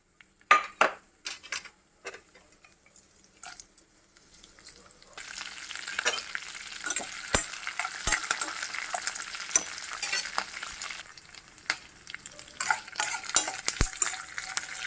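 Lentils are added to a hot oil tempering and fry with a steady, close, broad sizzle that swells after a few quiet seconds of clinks and stirring, with sharp spoon taps against the pan punctuating the continuous crackle.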